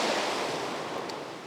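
Ocean water washes in and draws back over rocks and sand at sunrise, a steady broadband surf wash heard alone and close, slowly easing in loudness across the clip with some wind noise.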